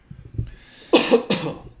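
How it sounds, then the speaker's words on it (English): A person coughs a few times at close range, with soft throaty sounds leading into two sharp, harsh coughs. "I apologize for the coughing too"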